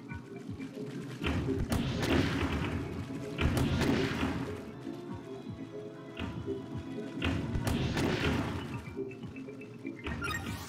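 Splatoon 2 ink shooting, offline mode, comes as repeated dense bursts of spray and thuds, with rhythmic waves of firing that rise and fall over a busy game soundtrack.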